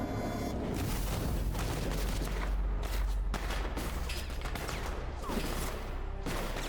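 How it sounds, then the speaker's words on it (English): Heavy large-caliber gunfire in the Metal Gear Solid Delta: Snake Eater video game, dense booming volleys and rapid shots that keep up loud and constant under a low rumble. "these are like, you know, large caliber Full Metal Jacket bullets"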